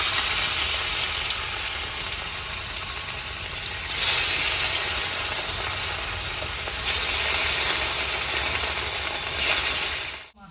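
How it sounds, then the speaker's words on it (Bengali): Rohu fish frying in hot mustard oil, a loud, dense, continuous sizzle and hiss that swells sharply twice as the fish shifts in the pan, then cuts off at the end. "তেলটা গরম হয়ে গেছে, মাছটা ভেজে নেবো।"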